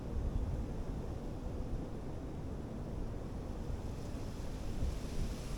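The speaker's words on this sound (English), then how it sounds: "Or just the wind." Steady outdoor wind on a freezing homestead, a continuous broadband rush with low rumbling gusts buffeting the microphone throughout, moderately loud and unbroken, with no voices.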